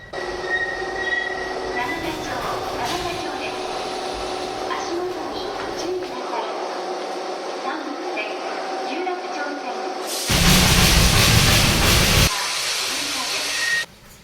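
The Darjeeling toy train rumbles steadily along toward Batasia Loop with wheel squeal, then swells into a louder roaring stretch near the end, while people talk aboard.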